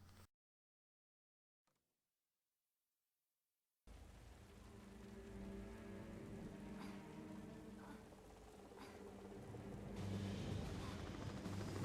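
A helicopter in the game Tomb Raider: The Angel of Darkness starts abruptly after a few seconds of near silence: a steady, close rotor roar with a low droning hum that grows slightly louder toward the end.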